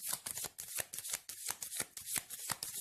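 Crisp, rapid riffling of tarot cards being shuffled, repeated in quick bursts with a steady papery rhythm, close and clear with no talking.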